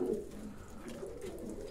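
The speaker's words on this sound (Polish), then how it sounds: "Świeży gołąb, tam na górze." A pigeon coos nearby in a loft, a soft, low, rolling call that swells and fades in a continuous murmur, quiet and close with no voices over it.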